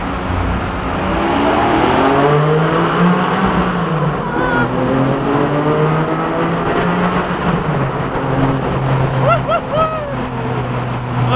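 A Porsche 718's exhaust drones from behind, its pitch rising and falling as the engine revs through a downshift, with brief higher blips near the end.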